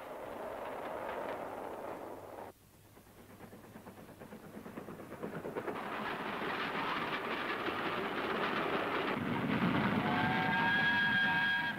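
Coal freight train from the mines to the steelworks of South Wales, running steadily along railway tracks with a continuous rumbling roll that swells louder toward the end, where faint high squeals from the wheels appear.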